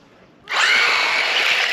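A Tamiya BT-01 RC car motor punched to full throttle on a 3S battery, a sudden loud, high electric whine that starts abruptly and holds steady.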